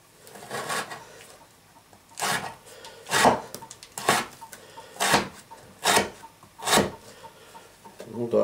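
A steel knife blade, stainless bulat, saws through a rope in about eight rhythmic, rasping strokes, each a short, fairly close scraping burst with brief pauses between.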